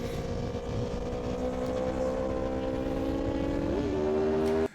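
An Aprilia RSV4 motorcycle races along the Karak Highway in Malaysia, its engine holding a loud, steady high-revving note that shifts pitch briefly before cutting off abruptly.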